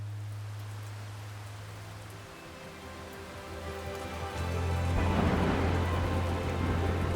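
Light rain patters steadily on a mountain trek toward Sar Pass, a soft continuous hiss that swells louder toward the end, with a low tonal hum early on.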